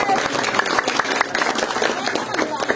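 Village audience clapping at a cultural talk in Mandirancang, a dense burst of handclaps with some crowd noise, loud and close.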